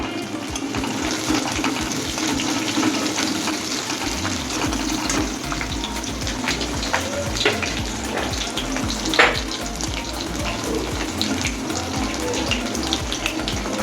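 Slit green chillies hitting hot oil for a vegetarian potato-and-pea curry, giving a loud, steady sizzle and crackle close up, with occasional stirring and no talking.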